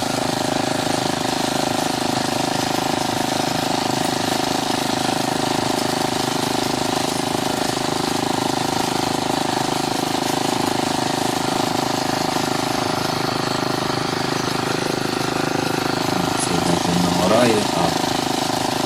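An old twentieth-century walk-behind tractor engine runs steadily and loudly throughout, a constant droning hum with a faint clatter toward the end.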